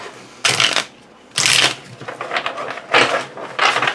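Tarot cards are shuffled close by in several quick riffling bursts separated by short pauses, crisp and papery.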